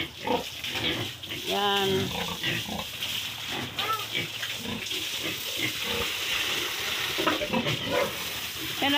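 Pigs grunt and squeal up close, with a bright burst of squealing amid hissing water and a voice speaking briefly.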